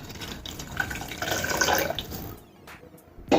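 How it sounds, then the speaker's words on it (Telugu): Water pours into rice in a pot for masala khichdi, a soft splashing fill with drips that swells and fades, then a brief louder knock at the end. "8 కప్స్ వాటర్ వేసుకున్నాను"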